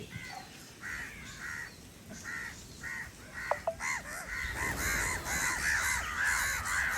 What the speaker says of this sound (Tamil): காக்காயெல்லாம் வந்து மைனாவை துரத்தி விடுது